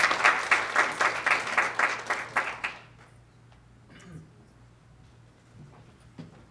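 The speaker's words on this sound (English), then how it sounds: "Please, round of applause for Joseph" An audience at a panel discussion on Assyrians in America applauds for a speaker, a burst of rhythmic clapping for about three seconds that stops abruptly, leaving a quiet room with faint shuffles and a low hum.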